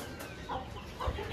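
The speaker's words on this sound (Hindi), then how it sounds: "ये मुर्गी नहीं खा रही खाना" A hen clucks in short soft bursts near a backyard feeding spot where chickens and doves are given grain, a few brief calls spaced over a faint ambient background.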